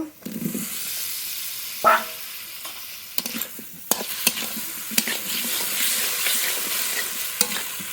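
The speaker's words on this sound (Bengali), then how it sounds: "এবার একটু কষিয়ে নেব মশলার সঙ্গে মশলার সঙ্গে কচু খুব ভালো করে কষিয়ে নিয়েছি" Taro pieces fry with spice masala in a pan, a soft sizzle under repeated sharp scraping and knocking of a spoon as they are stirred.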